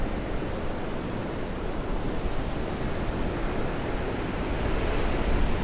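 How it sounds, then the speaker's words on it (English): Waves of water wash up onto a shore in a steady, loud, broadband surge with wind buffeting the microphone throughout, no voices present. "look at this water coming up at us"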